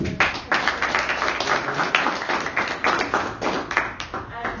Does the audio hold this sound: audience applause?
yes